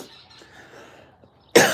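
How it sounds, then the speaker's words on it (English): A single sharp, close cough bursts out at the end after near silence. "Probably just scared him away with that cough"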